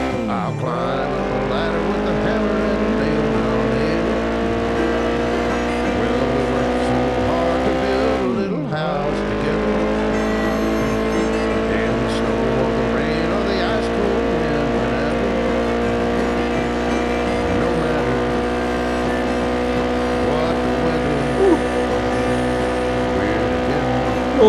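Car engine in a mobile GTA-style driving game at top speed on a highway, a steady high whine held for a long stretch with one quick dip and recovery, loud and continuous.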